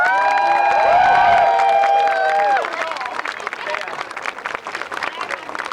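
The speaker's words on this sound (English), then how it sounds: "Give a round of applause for them, I'd really appreciate that." Crowd applause and cheering for a security team at the closing ceremony of the IQA World Cup finals, loud and dense with tonal whoops early on, then thinning to scattered clapping.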